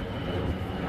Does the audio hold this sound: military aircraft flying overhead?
yes